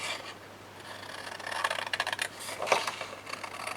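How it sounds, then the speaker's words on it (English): Scissors or a blade cut copy paper along a score line for a tag pocket, giving a quiet, close rasping crunch in a few short bursts with brief pauses between them. "So then we will cut off the sides on the score line here"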